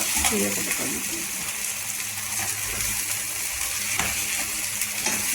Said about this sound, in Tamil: இது இனி வதங்கட்டும் நல்லா.